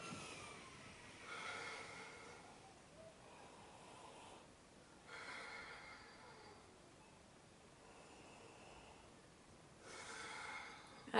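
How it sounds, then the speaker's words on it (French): Three deep, slow inhalations through cupped hands held over the face to breathe in a hand cream's scent: soft, breathy rushes of air, close and quiet, with pauses between breaths and no talk. "je mets mes mains devant, un peu comme un masque, et je respire ma crème 3 fois"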